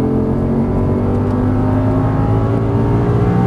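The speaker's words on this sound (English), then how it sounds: "start squeezing the throttle, full throttle here" Audi R8 under full throttle, its engine giving a loud, sustained roar that holds a steady, strained pitch with no pause from start to finish.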